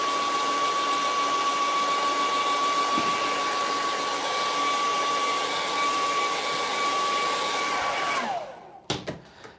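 A hair dryer blows steadily and loudly on a painted palm tree on a beach-scene canvas, a constant whirring roar that cuts off near the end, followed by a few faint knocks.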